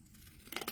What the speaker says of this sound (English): let's just do this with the pinking shears